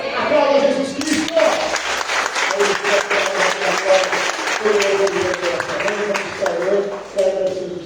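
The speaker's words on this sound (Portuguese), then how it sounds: "Aplauda Jesus Cristo." A church congregation applauding during an evening worship service, dense hand clapping from many people close by, with a voice speaking and calling out over the clapping throughout.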